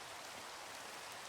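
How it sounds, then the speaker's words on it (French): Steady rain falls in a hardcore survival video game, a soft, even hiss of drops that continues without break. "Bref, et il pleut toujours,"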